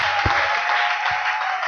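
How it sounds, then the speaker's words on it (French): A church congregation claps for the Lord in a loud, dense burst of applause that fills the room, with a couple of low thumps underneath. "applaudissons pour le Seigneur"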